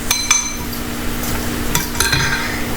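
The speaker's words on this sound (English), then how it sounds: "Give it all a good mix." A spoon stirs noodle sauce with soya sauce in a bowl or wok, giving a few clinks and scrapes against the metal over a steady faint hum, with no voices.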